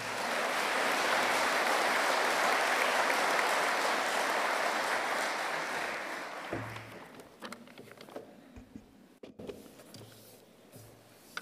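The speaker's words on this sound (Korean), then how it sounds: "이제 나오실 때 여러분 큰 박수로 맞아주시길 바랍니다." Large audience applause at a university president's inauguration ceremony, the 18th President Kim Yong-hak, loud and sustained for about six seconds before fading into scattered claps and quiet room noise.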